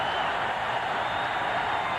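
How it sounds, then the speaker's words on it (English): A stadium crowd roars loudly and steadily at a college football game, Tennessee against Kentucky in 2002, as a broad, dense wall of cheering that fills the stands. "Crowd roars, maybe the biggest roar of the day"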